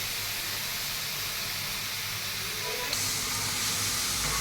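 Okra frying in hot oil in a pan, a steady broadband sizzle and hiss that holds evenly throughout, close and fairly loud, with no one talking.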